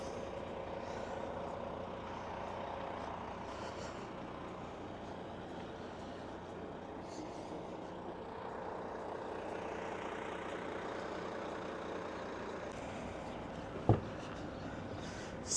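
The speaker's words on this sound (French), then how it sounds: "Il en fait du potin avec son camion celui-là." A noisy truck rumbling past on a road near a Norwegian fjord on the way to Bergen, a steady low engine drone holding throughout, with a brief sharp knock near the end.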